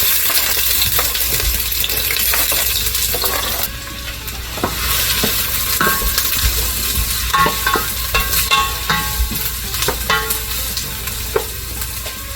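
Onion frying in a pan for a vegan spinach and mushroom stir-fry: a loud, continuous sizzle broken by repeated metallic taps and scrapes of a utensil against the pan.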